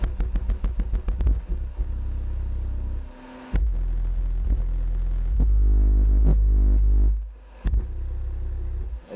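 A Power Acoustik RZR1 2500 subwoofer driven by a Taramps HD amplifier pounds out loud, deep bass, starting with rapid thumping pulses and then moving into long sustained booming tones broken by brief gaps.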